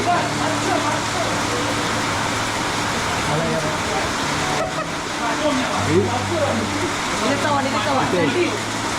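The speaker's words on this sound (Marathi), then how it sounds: "पाऊस बघा जोरदार पाऊस चालू आहे" Heavy rain pours down in a Konkan forest, a dense, steady hiss that fills every second, with voices faint beneath it.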